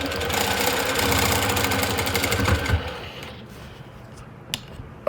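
A longarm quilting machine stitches with a fast, steady mechanical whir and needle chatter for about three seconds, then slows and stops, leaving a quieter hum and a couple of isolated clicks.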